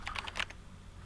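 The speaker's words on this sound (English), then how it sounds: "I don't spy on people when they're typing passwords" A quick burst of about five or six keystrokes on a computer keyboard while a password is entered in the game Event[0], crisp and close, then quiet.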